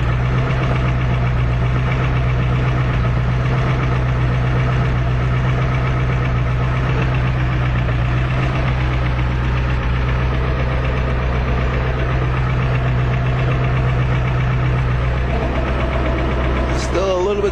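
A cold Ford diesel truck engine idles roughly and loudly, a steady low rumble with knocking, shaking and rattling running throughout without a break.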